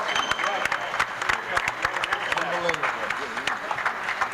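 Applause and clapping from a handball crowd after a 2005 National Masters Singles 50s match between Roger Berry and Danny Carillo, a steady patter of many hands over a few seconds with voices talking over it.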